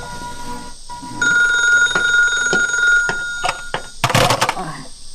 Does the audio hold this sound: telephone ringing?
yes